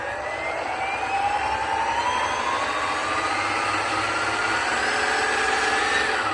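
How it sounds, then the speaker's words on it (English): FlyWing EC-135 RC helicopter with its tail and main motors spinning up, a steady whirring hum whose pitch rises gradually and holds, continuous and fairly close with no talk. "You can hear the tail motor and main motor just start."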